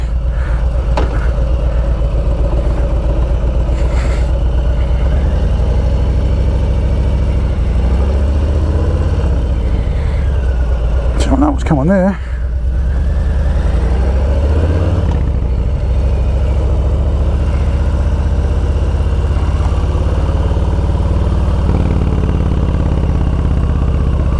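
A 2021 Harley-Davidson Softail Street Bob engine rumbles steadily and loud while riding, with a deep continuous drone, shifts of throttle and off-throttle burble around the middle, and wind noise over it; a brief spoken line.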